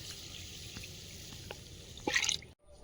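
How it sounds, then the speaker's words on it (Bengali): Rice being rinsed in water and drained for a Bengali pulao, a steady close trickle and drip of water with a louder splashing pour near the end before it cuts to silence. "এবার চালটা ধুয়ে জল সরিয়ে নেব"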